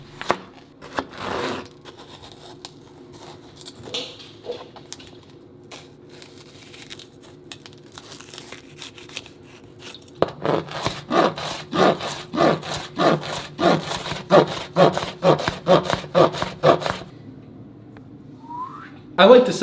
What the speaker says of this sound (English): Be careful when you cut your jalapenos